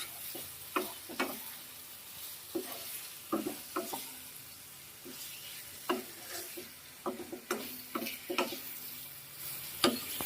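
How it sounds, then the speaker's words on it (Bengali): Fried eggplant is stirred into spice paste in a pan, a soft background sizzle broken by repeated, irregular spatula scrapes and knocks against the metal, quiet and close. "এবার ভেজে রাখা বেগুনটা এর মধ্যে দিয়ে দেবো দিয়ে একটু কষিয়ে নেবো ভালো করে বেগুনের সঙ্গে মশলা দিয়ে"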